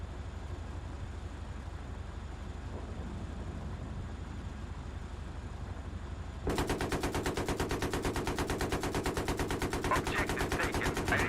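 Tank turret guns firing in the video game Battlefield 3, a low engine rumble giving way to loud, rapid, continuous machine-gun bursts that run to the end.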